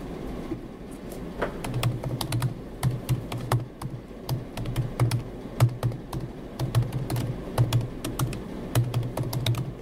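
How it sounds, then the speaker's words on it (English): Typing on a computer keyboard in a workshop room at a conference, with rapid, close clicking keystrokes in uneven bursts over a low background hum. "So I'm typing"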